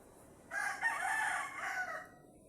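A single six-month-old Rhode Island cross rooster crows once, a clear, fairly close cock-a-doodle-doo lasting about a second and a half against quiet background noise.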